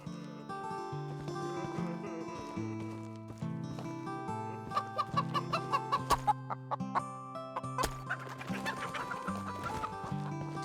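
Chickens cluck repeatedly in the medieval survival MMORPG Reign of Guilds, their quick bursts set over background game music, fairly quiet throughout.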